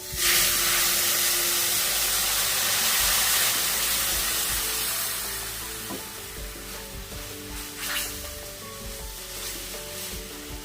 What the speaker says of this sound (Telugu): మనం ఇప్పుడు ఇందులో పాలు వేసుకుందాము